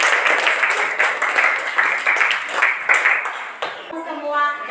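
Classroom applause, a dense burst of many hands clapping close up for several seconds, fading just before the end as a voice starts speaking.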